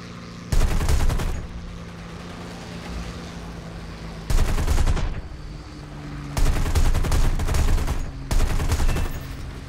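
A P-39K-1 fighter fires its guns in an arcade flight combat game, four loud bursts of rapid fire separated by short gaps, over a steady engine drone.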